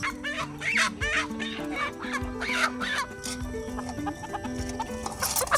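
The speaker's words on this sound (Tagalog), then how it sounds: "Magtingin tayo ng tandang at tinahin." Roosters and hens on a farm flock of some 238 chickens cluck and crow continuously, many birds overlapping near and far, with steady background sounds and a possible dog bark.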